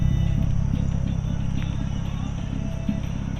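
Nissan 350Z driving, a steady low engine rumble and road drone held close and even throughout, with no clear revving peaks.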